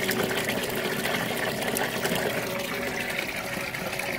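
Steady rushing, gurgling water flows without pause, a constant broadband wash at moderate volume, as water drains from a nutrient tub.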